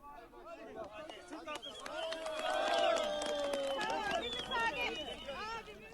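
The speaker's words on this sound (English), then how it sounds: "Those are shouts of joy as a mother and her 6-year-old daughter were pulled from a home" Excited shouts and cries of joy rise from a crowd in Turkey as a mother and her six-year-old daughter are pulled from the rubble of a home after the earthquake, with voices overlapping loudly and continuously.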